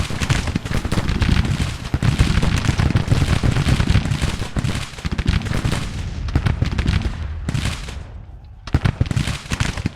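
Dense video-game gunfire roars almost without a break, heavy overlapping rifle and machine-gun bursts close and loud, thinning near the end into a few separate sharp shots.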